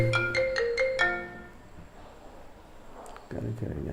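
A phone ringtone plays a quick run of bright, repeating electronic tones for about a second, then fades into near silence before a voice starts speaking at the end.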